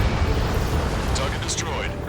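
Explosion of a destroyed target in the Ace Combat 7 flight combat video game: a sustained, loud rumbling blast with crackling debris, a voice talking briefly over it.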